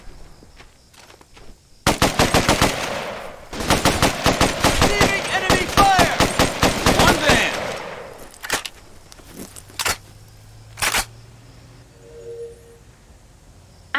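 Sustained automatic gunfire in the PC shooter Raven Squad, several seconds of loud rapid bursts followed by a few isolated shots and brief effects, close and dominant, without speech.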